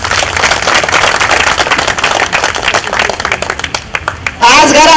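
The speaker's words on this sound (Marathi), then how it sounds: "तर सगळ्यांना आपण टाळ्या वाजवून स्वागत करू." A crowd of audience members at a Marathi Paithani contest event claps loudly and densely to welcome the contestants. The dense clapping fills most of the clip and fades briefly before a louder sound cuts in at the end.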